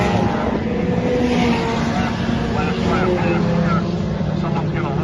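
Dirt track race cars roaring around a speedway during a heat race, a loud continuous engine drone with a commentator talking over it.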